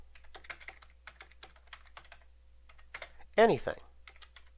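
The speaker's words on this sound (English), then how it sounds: "Now type something." Computer keyboard keys clatter in quick irregular bursts of light clicks, close and fairly soft, with a brief spoken word breaking in partway through.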